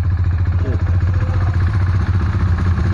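A motorcycle ridden on the road out of Srisailam, its engine a loud, steady low drone with rattling and wind rumble throughout, no voices.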